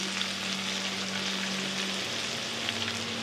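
Chopped ginger and garlic hit hot oil with bay leaves in a pot for a Bengali chicken milk pulao or khichdi, giving a steady, soft, continuous sizzle with no voices.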